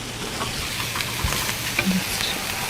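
Spices frying in a hot pan for Moroccan chicken, a close, steady sizzle with small stirring clicks over a short stretch.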